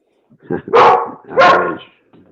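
A dog barks twice, loud and close, each bark a drawn-out, harmonic yelp, with a faint rustle afterward.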